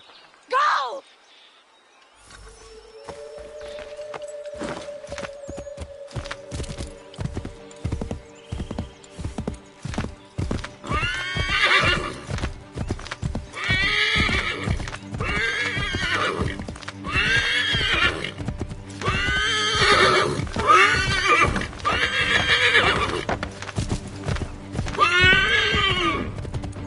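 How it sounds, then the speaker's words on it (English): A horse in the video game Star Wars Outlaws gallops with steady clip-clop hoofbeats while it lets out loud, repeated neighs and whinnies over a rhythmic trot. The sounds are close and prominent. "Take my horse!"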